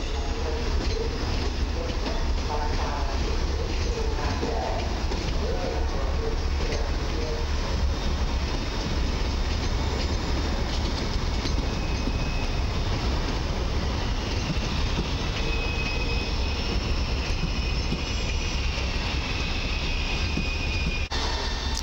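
A Flirt ER75 electric multiple unit train at Warszawa Zachodnia station, bound for Siedlce, gives a steady close rumble of wheels and electric traction with a faint high whine, continuous throughout.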